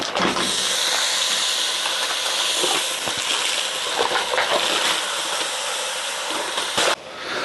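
Meat going into a hot pan to brown, a loud and steady sizzling hiss that fills the whole stretch with no talk over it.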